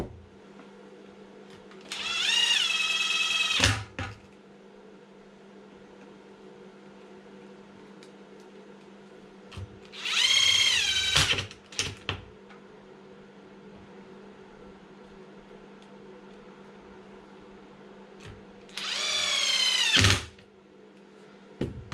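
A power drill drives small screws into an Arrma Felony RC drag car, sounding as three short whirring bursts separated by quiet gaps.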